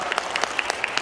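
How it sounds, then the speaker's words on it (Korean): Congregation applauding in a church during a revival service, dense clapping from many people with a few sharper claps standing out, heard for a brief second. "영광의 박수 하나님께 올리겠습니다."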